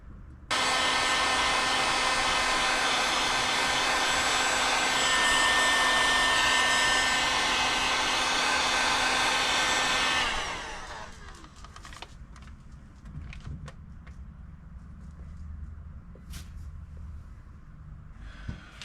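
A heat gun blows loud and steady for about ten seconds, shrinking solder heat-shrink sleeves onto bonded wires for a portable RV water pump kit, then cuts off, leaving faint clicks and handling noises.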